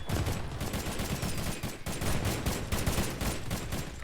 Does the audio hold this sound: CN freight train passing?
no